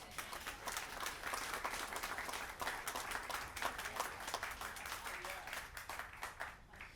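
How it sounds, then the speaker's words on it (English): At a Southfield police memorial, a crowd gives a round of applause, steady dense clapping held for several seconds at a moderate distance, fairly quiet, with faint voices underneath. "One more round of applause."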